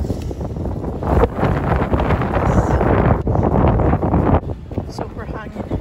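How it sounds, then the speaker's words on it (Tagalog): Strong wind buffets the microphone outdoors during flower shopping, a loud steady roar with gusts that swell and drop over several seconds. "Super hangin, grabe."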